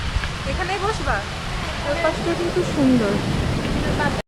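Rain falls by the sea at a sea-view restaurant in Cox's Bazar, making a steady, dense hiss throughout while people talk over it.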